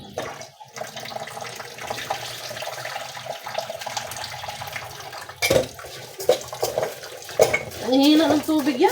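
A weak trickle of tap water runs into a kitchen sink while a soup is being cooked, a steady low wash under the room sound, with dish clatter and voice-like bursts toward the end.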